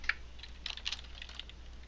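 Someone types on a computer keyboard in a short, quiet flurry of light keystroke clicks. The taps are irregular and close, with no talking.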